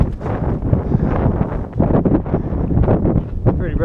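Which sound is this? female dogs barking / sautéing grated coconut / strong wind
strong wind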